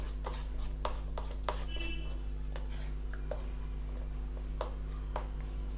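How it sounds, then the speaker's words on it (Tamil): Thick pancake batter with added sugar is stirred in a bowl, soft repeated scraping and tapping strokes over a steady low hum, close and fairly quiet. "சுகர் ஆட் பண்ணிவிட்டு இதை இன்னொரு வாட்டி நம்ம நல்லா மிக்ஸ் பண்ணி எடுத்துக்கலாம்"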